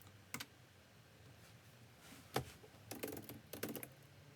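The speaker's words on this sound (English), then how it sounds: "once you type the correct answer, then you hit enter" Clicks of typing on a computer keyboard while entering answers into a study app, heard as faint, scattered bursts of keystrokes with quiet gaps between them and no talking.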